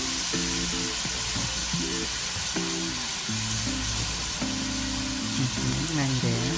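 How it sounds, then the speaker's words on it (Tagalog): Chicken hearts sautéing in a pan, a steady sizzle and frying hiss running beneath background music with tonal melody throughout. "Luluto lang po natin saglit yung chicken hearts din."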